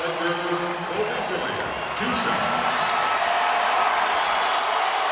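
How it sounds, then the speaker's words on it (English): Basketball arena crowd roars and cheers for Kobe Bryant, a loud sustained swell of noise that builds through the whole moment while a commentator talks over it. "Crowd is going nuts."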